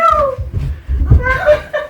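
A small cat meows in a few short, rising and falling cries, close and loud, with a person's voice mixed in.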